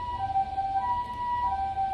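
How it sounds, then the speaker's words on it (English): An ambulance siren sounding nearby, a loud wailing two-tone cycle repeating about every half second over a low traffic rumble, with no talking. "Oh my goodness, the ambulance."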